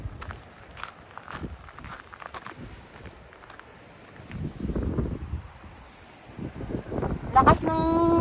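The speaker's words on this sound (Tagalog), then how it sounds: "Lakas ng waves, oh." Strong waves break on the rocky shore of Po Toi Island in Hong Kong, two heavy surges swelling and fading amid wind buffeting, footsteps and people talking nearby.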